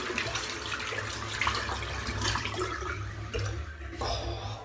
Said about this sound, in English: I just want to rinse my soap out.